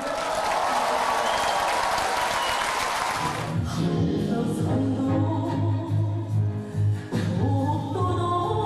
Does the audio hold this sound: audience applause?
yes